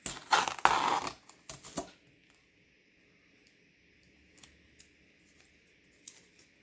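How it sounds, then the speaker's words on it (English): Tape peeled off an acrylic painting, a short burst of loud crackling and ripping up close, followed by a near-silent stretch with a few faint ticks. "So now we can go ahead and pull up our tape and see what we have."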